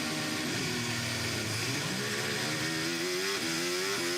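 A 2024 Mercedes F1 car engine revs high on the starting grid in first gear, a loud, sustained wailing roar that rises and dips in pitch over crowd and track noise.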